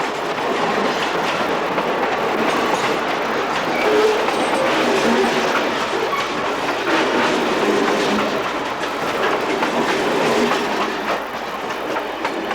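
A New York Susquehanna & Western freight led by an RS-1 diesel rolls through Hawthorne, New Jersey, with steady loud rumble and rhythmic clickety-clack of railcar wheels passing close by, no voices.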